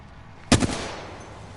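A burst of submachine gun fire from the Prowler SMG in a first-person shooter game: one sharp, loud broadband crack with a quick stuttered follow-up, then a fading tail over quiet game ambience.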